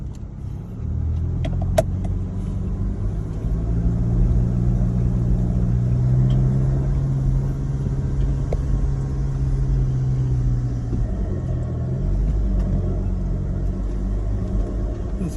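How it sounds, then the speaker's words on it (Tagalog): A vehicle's engine drones steadily in first gear and low range while climbing a hill, a loud continuous low rumble with rattles and thumps from the rough ground. "Akitin muna natin tong isang hill na to. Siguro first gear, low range."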